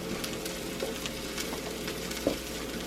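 Mushrooms fry in a hot cast iron pan with a steady, even sizzle and a couple of soft clicks from the pan, close and alone, with no talking.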